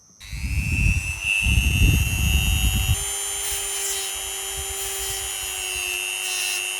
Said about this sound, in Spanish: Ahora con este Dremel vamos a ir tallando la forma que tiene la orejita